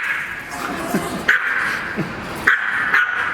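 Several dogs on leads bark, yip and whine excitedly at another dog, close by, in repeated sharp bursts over a steady background hum.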